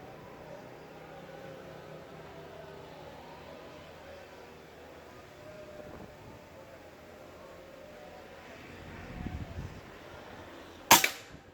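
A single sharp, loud shot from a Bocap Pajero Gun Gen 5 PCP air rifle cracks near the end, following a low thump, over steady outdoor background noise.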